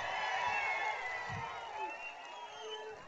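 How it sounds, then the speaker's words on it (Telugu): A large crowd claps steadily at an outdoor political public meeting in Allagadda, a continuous wash of applause and cheering with scattered shouts, loud and sustained throughout. "రాతి యుగం వద్దనే వాళ్ళు గట్టిగా చప్పట్లు కొట్టి నిరసన తెలియజేయండి"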